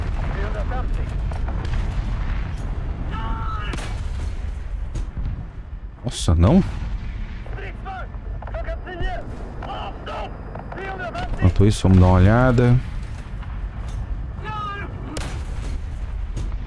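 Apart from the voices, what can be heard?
tank cannon fire in the video game War Thunder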